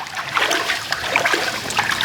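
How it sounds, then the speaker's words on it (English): A coir block being stirred in water with calcium nitrate dissolved in it, making a continuous close sloshing, trickling swirl with small bubbly splashes and no pauses. "In this water, we just keep stirring it until it's nicely dissolved."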